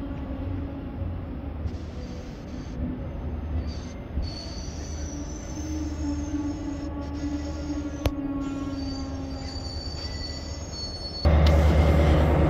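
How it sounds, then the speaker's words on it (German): A Metronom regional express train bound for Cuxhaven, hauled by a class 246 diesel-electric locomotive, pulls into Hamburg Hbf with steady rolling rumble and high, sustained wheel squeal, growing louder and closer near the end. "Einfahrt Metronom auf dem Weg nach Cuxhaven als RE"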